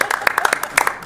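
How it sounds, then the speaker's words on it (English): Audience at a city council meeting clapping after an energetic presentation, a short burst of scattered hand claps from a modest crowd in a hall, with a voice speaking over it. "We can clap now."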